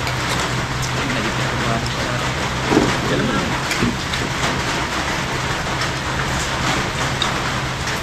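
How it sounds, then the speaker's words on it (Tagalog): Steady rain falls around the listener in a dense, continuous hiss, with occasional louder drops and faint voices under it. "Itong ulan na to guys, pabor din to sa mga magsasaka."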